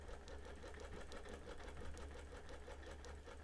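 A sewing machine running steadily for free motion quilting on a birthday quilt, its needle chattering in a fast continuous rhythm close by, with no talk over it.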